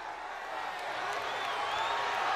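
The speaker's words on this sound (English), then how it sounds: "this decidedly pro-WCW crowd at the Omni is obviously upset at Sting's allegiance" Large wrestling arena crowd at the Omni during a 1997 WCW Nitro broadcast, a sustained roar of many voices swelling slightly in a dense, continuous wash.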